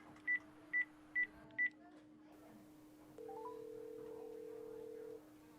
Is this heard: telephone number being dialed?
yes